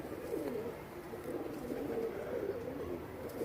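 Iraqi pigeons cooing softly in repeated low throaty calls, close but faint, with no talking.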